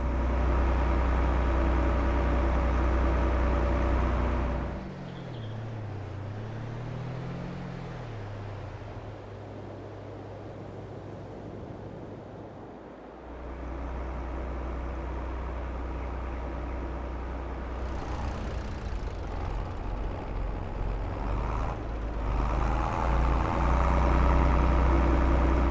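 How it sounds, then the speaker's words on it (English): A small classic Fiat tractor engine runs steadily with a low, even idle-like drone, dipping in a quieter middle stretch and then swelling again toward the end, with no talk over it. "especially in this lovely classic little Fiat tractor. Oh, absolutely purrs along."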